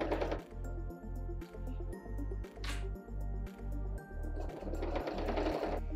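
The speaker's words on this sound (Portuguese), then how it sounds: "Aqui estamos finalizando a costura do vivo, tá?" Sewing machine stitching felt piping on a modern felt vanity case, running in steady bursts of rapid needle strokes with brief pauses between runs, close and loud.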